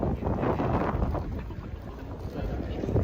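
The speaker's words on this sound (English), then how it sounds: "It's just a little bit more wind than I expected, but when you're on the seaside, there is much more wind." Wind buffets the microphone on the seaside waterfront near Shinagawa in Tokyo, producing a continuous, rumbling, low roar that rises and falls throughout.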